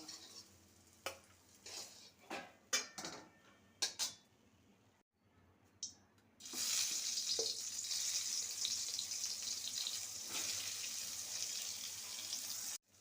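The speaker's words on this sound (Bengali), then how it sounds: "এবার বাকিগুলো যে বেগুনগুলো আছে সেগুলো একইভাবেই ভেজে নেব" Eggplant slices in mustard oil: a few scattered clinks and scrapes of a utensil against a pan, then a strong steady sizzle of frying that continues to the end.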